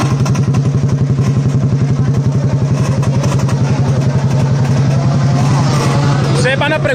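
A Yamaha Crypton FI 170cc motorcycle runs loud and close with a fast, rattling exhaust pulse, the engine note building as it pulls away from a standstill.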